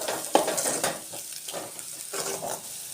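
Cauliflower florets are mixed with salt in a bowl for gobi manchurian, soft rustling and scraping strokes that come in uneven bursts, close and fairly quiet, no talking.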